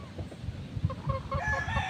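A hen clucks in short, low, irregular bursts close by, with some thin higher chirps joining toward the end and no talking.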